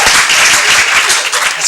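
Brief burst of audience applause at the Nourish Conference 2013, a dense patter of clapping that fills the whole moment loudly and steadily, with no voices over it.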